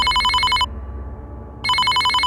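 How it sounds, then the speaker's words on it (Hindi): A telephone rings with an incoming call: two loud, close electronic ring bursts separated by about a second of quiet, with no voices. "उनके टेलीफोन पर किसी का कॉल आया"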